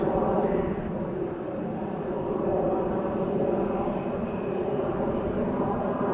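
An Emirates A380 in special livery arriving at Amsterdam Schiphol, a steady broadband jet roar that holds at an even, moderate level throughout without a clear peak or fade.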